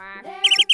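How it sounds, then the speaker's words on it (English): Bird chirping in a children's vocabulary song, a short burst of rapid high tweets following a brief tonal note, close and clear. "Bird,"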